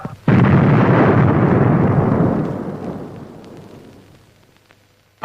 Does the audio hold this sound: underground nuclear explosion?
yes